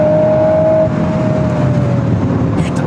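A Volkswagen Golf 8 R engine runs hard toward the rev limiter, a loud, close, sustained drone with a steady tone that holds and slightly eases over about three seconds.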